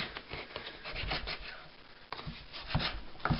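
A knife roughly cutting sponge material around a plastic bottle for a survival water filter, a close, continuous rasping and rubbing sound with uneven strokes.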